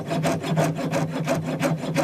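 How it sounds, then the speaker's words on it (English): A hand saw cuts through a wire coil held on a wooden dowel for ring making, giving a brisk, even back-and-forth rasping at about four strokes per second, close and alone. "and start sawing."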